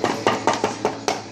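Eggs tapped and cracked against the rim of a bowl in a kitchen, six quick sharp knocks in a steady rhythm, close and fairly clear.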